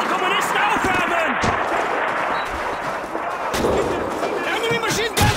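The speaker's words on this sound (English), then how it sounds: "Enemy machine gun to the east!" Gunfire and machine-gun bursts crackle through a Call of Duty 2 battle on the Russian front, a dense, continuous barrage with sharp shot transients, while shouted voices call out over the fighting.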